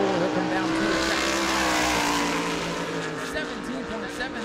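Race car at speed through turn 4 during World Series qualifying at New Smyrna, a steady loud engine drone holding throughout with faint tire noise, under continuous commentary.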